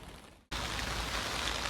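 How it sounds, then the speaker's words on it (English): Heavy rain pours steadily outdoors at a garden compost setup, a dense, loud hiss that starts abruptly after a short quieter moment and continues unbroken with no talk. "Sorry about the rain, it's really bad at the moment."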